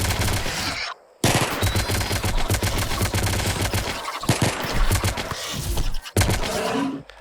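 Rapid automatic gunfire from a RimWorld raid battle, loud and sustained in long bursts with a few brief gaps and a final short salvo, no voices over it.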